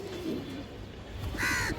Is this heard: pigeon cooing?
yes